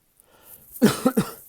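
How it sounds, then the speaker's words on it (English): Three short, close coughs in quick succession after a faint breath, with no other sound around them. "Sorry about my coughing and drinking my cup of coffee."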